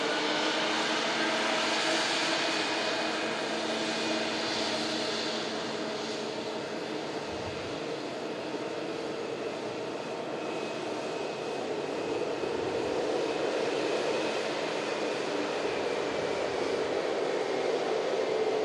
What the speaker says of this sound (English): We've got the beautiful Air Transat A330 200 series heading back to Toronto